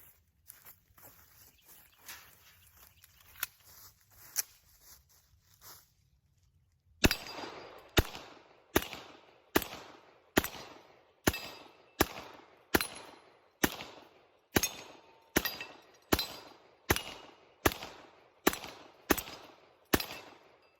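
A CZ Tactical Sport competition pistol empties a magazine outdoors, with about eighteen loud, sharp shots in a steady, evenly spaced rhythm after a quieter stretch of faint handling noises.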